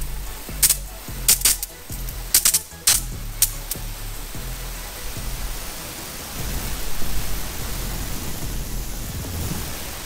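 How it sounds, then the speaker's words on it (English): Water spraying from a garden hose fitted with a 3D printed sprayer, a steady broadband hiss that follows a few sharp bursts at the start and runs on continuously without any talk. "I'm gonna be turning on the garden hose."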